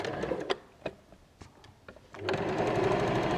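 A sewing machine stitching a bag seam, with a few separate clicks and short bursts first, then a steady, close whirring run of stitches, no talk.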